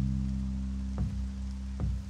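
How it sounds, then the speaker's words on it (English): Rain falls in the pixel-art video game Backbone as a soft steady patter over a low constant hum, with two brief sharper drip or splash hits spaced about a second apart, no voices present. "I'm just already looking at this rain effect happening."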